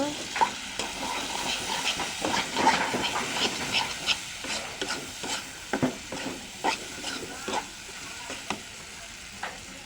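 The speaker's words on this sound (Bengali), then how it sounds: "এই তো আলু পেঁয়াজ ভাজা হয়ে গেল।" Potatoes and onions frying in a pan for an egg curry, a steady sizzle broken by repeated scraping clicks of stirring that come in quick irregular bursts throughout, close and fairly quiet with no talking.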